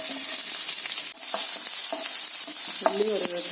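Onion and curry leaves fry in hot oil in a pan for a roasted coconut mango chutney, with a loud, close sizzle broken by several scraping stirs of a spoon.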